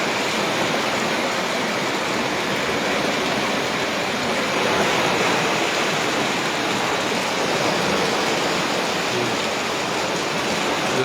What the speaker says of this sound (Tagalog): Kaya umapaw ng ilog oh